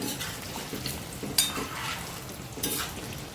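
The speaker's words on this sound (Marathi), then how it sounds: "तेलात थोडे आपल्याला हे बटाटे फ्राय करून घ्यायचे चांगले गुलाबी रंगावर" Potatoes frying in hot oil for dum aloo give a soft, steady sizzle. A few faint clinks and stirring scrapes from utensils come through, and the whole scene is fairly quiet.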